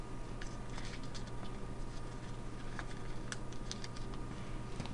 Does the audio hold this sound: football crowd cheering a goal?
no